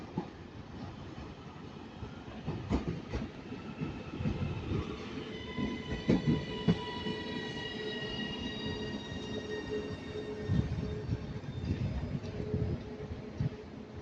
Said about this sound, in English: now arriving is the Northern service to Manchester Airport by 331015